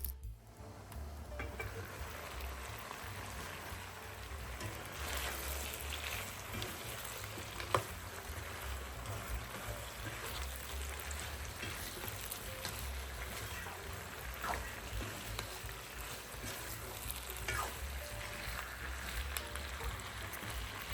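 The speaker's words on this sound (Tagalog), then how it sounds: "we're gonna let it sear for another 5 to 10 minutes." Pork belly sears in a pan with a soft, continuous sizzle that stays low and even throughout.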